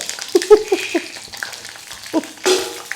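Mustard seeds spluttering in hot oil, a handful of sharp pops and crackles scattered over a soft sizzle, close and brief.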